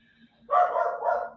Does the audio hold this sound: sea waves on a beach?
no